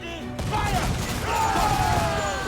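Ship cannons firing in a broadside during a naval battle in the pirate game Assassin's Creed IV: Black Flag, a dense rumbling barrage of booms with shouting crew voices over it.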